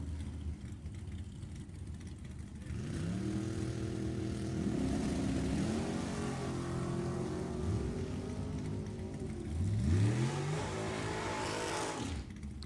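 A 1969 Camaro and a 1991 Corvette launch at a drag strip, engines rising in pitch through gear changes as they pull away, with a second rising engine note near the end over steady background noise.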